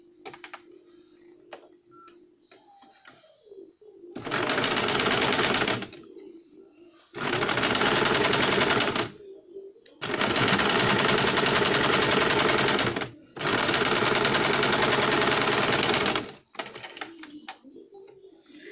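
An electric sewing machine stitches a tuck-lined blouse in four loud, steady bursts of rapid whirring, each a few seconds long, separated by quiet pauses with faint handling noise.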